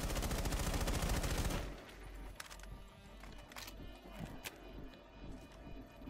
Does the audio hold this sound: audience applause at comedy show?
no